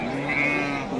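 A pregnant sheep at a livestock market gives a single sustained, close bleat lasting about a second, over steady market background noise.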